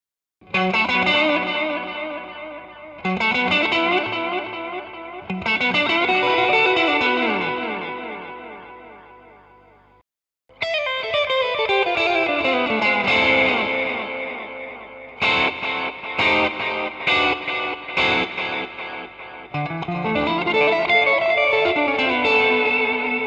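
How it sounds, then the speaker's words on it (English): A guitar runs through a NUX NDD-7 tape echo pedal, loud sustained chords and plucked notes trailing saturated, distorted repeats that smear and decay, with a brief gap and then choppier strummed bursts. "On a real tape echo, the tape is being pushed harder the longer it runs, and the repeats get more distorted as they decay."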